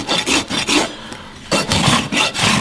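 A farrier rasps a horse hoof with a file in repeated scraping strokes, loud and close, with a short pause partway through before the strokes resume.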